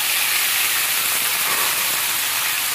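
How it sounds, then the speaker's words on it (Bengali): Taro stolons boiling in a pot, giving off a steady, even steam hiss that runs unbroken from start to finish, with no voices over it. "কচুর লতি সেদ্ধ হচ্ছে।"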